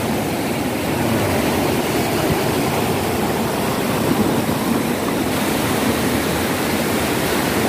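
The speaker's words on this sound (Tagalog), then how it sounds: "Sabing alon, tingnan niyo namumuti." Continuous roar of surf during a flood, broad and steady, with whitecapped waves washing and breaking close by; no voices.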